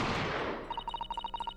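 Gunshot effect from The Great Ace Attorney Chronicles: a loud noisy burst that fades over about half a second, followed by a fast run of sharp repeating pings and clicks.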